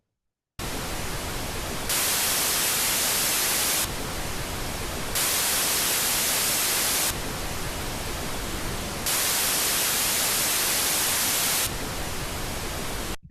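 Steady broadband test noise alternates between white noise and pink noise in blocks of roughly two seconds, the white noise sounding brighter and hissier, loud and continuous with no talking.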